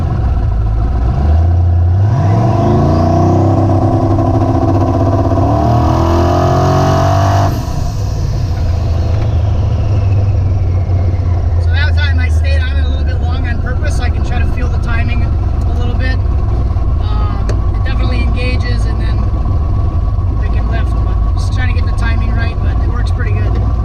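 A car engine revs against a trans brake for a launch on a 4L80E transmission controlled by a Terminator X. A loud rising rev sweeps up at first, then settles into a sustained, steady drone held near the microphone.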